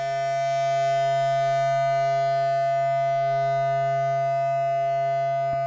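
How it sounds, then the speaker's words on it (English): An EarthQuaker Afterneath Eurorack reverb module self-oscillating, with the dampen knob shaping its tone. It makes a steady, loud, sustained drone of stacked harmonic tones that holds unchanged for several seconds. "When the Afterneath is self-oscillating, the dampen knob controls the tone of the self-oscillation."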